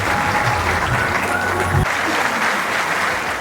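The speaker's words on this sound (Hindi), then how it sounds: "तो सबसे पहले आप लोगों के लिए बहुत सारी तालियां होनी चाहिए।" Loud, dense applause from a large audience at an event, many hands clapping together close by, with a low background tone cutting out midway while the clapping continues.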